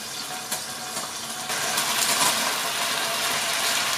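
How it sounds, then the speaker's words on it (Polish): Unfloured, unseasoned beef cutlets sear in a hot pan over a gas flame turned up, giving a steady, close hiss of sizzling fat that grows louder and fuller partway through, with no talking. "I teraz wkładam nasze drugie bitki. Niech się podpiekają."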